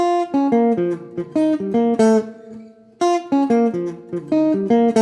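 A clean electric guitar plays a fast, swinging single-note jazz phrase, notes rapidly picked with a short pause midway before the line continues.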